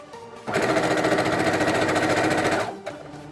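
A sewing machine stitching down pleats on a cosplay sleeve, one steady loud whirring run of about two seconds with a short mechanical click afterward.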